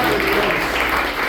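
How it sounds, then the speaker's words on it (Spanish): A church congregation applauds together at a Spanish-language service, steady clapping filling the room briefly without pause. "Dale otro fuerte aplauso."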